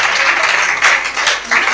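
Applause from an audience at a diploma ceremony for an academy master class, steady and close, swelling in short surges as a graduate is called up.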